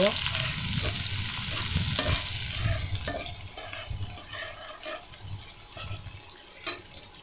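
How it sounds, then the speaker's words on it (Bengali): Onion and green chilli frying in a pan for a papaya, pointed gourd and egg curry, a loud continuous sizzle with repeated spatula stirring scrapes, nearby and free of speech. "এটা এখন আমি ভালো করে ভেজে নেব"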